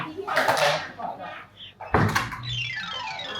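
A door in a large house is knocked on and then opened, giving a couple of close, sharp thunks followed by the creak and swing of the door, with people talking briefly around it.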